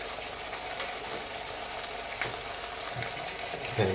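A green chili dropped into hot, thick tomato puree for mattar paneer masala sizzles steadily, with a few small pops and crackles close by and no voices.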